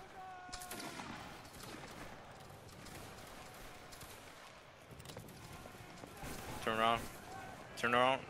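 British and Russian soldiers fire musket volleys in a Roblox Waterloo battle game. Sharp gunfire bursts crack out among background battle noise, and voices and shouting rise over the sound toward the end.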